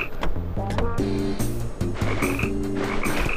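Frog croaks from the Tasty Blue video game, a rapid run of loud, repeated croaks over a busy layer of game music and effects, with no talking.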